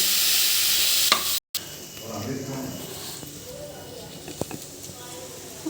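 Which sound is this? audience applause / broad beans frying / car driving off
broad beans frying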